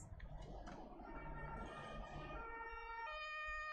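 A police siren wails, climbing and holding its pitch, sounding from some distance over a low rumble of traffic and crowd noise during a hostage situation at a Wells Fargo bank in Georgia.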